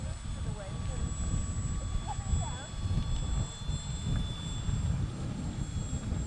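A Ben Buckle radio-controlled model airplane flies overhead, its small engine buzzing steadily at a moderate distance while people talk nearby and a faint whine runs throughout.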